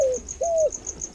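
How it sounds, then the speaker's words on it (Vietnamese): Near and clear, a spotted dove coos in soft, low-pitched phrases, with crickets chirping steadily in the background in a quiet rural garden near Hanoi. "Yêu sao tiếng gáy chim cu,"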